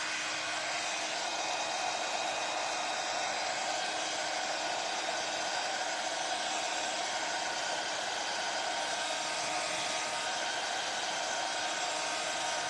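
A heat gun blows a steady, continuous roar close by while warming WoodUBend decoupage trim, unbroken throughout with no talk.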